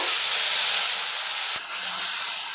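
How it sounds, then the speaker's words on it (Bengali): Spice paste sizzling in hot oil in a pan for a papaya dish, a steady, loud broadband hiss throughout with a brief dip midway, no talk. "মশলাটা কষিয়ে নেব।"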